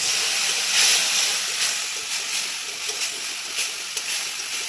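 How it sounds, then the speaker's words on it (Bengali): Spice paste with Kashmiri chili powder and a little water sizzles in a pan for Bengali katla fish kalia, giving a loud, close, continuous hiss with brief bubbling spurts. "আমি একটু সামান্য জল দিয়ে এটা ভালো করে কষিয়ে নেব।"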